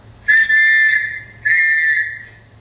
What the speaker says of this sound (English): have a nice whistle